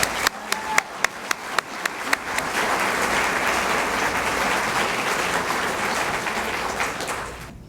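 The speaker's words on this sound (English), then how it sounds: "we're going to do one more round of applause" A large school audience applauds the administrative team at an awards ceremony: a few sharp early claps build into a dense, sustained round of clapping that fades slightly at the end.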